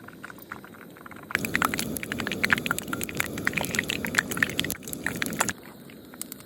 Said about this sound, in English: I'm just gonna drop it in the pan with some oil.